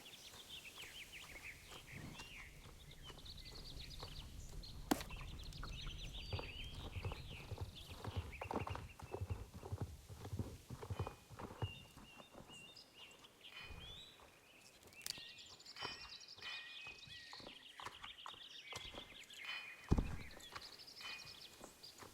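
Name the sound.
horse hooves walking in the video game Star Stable Online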